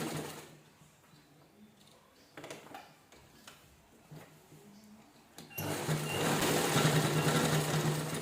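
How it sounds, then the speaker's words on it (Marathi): A sewing machine locks the seam on an apron made from an old shirt. Faint ticking and handling come first, then a loud, close burst of continuous stitching. "शिलाई लॉक करून घ्यायची"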